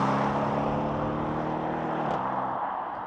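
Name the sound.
Audi RS6 C7 estate accelerating hard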